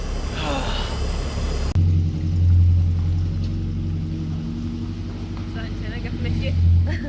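A vehicle towing a trailer rolls into a driveway, its engine a low steady rumble that swells twice, with excited talking over it.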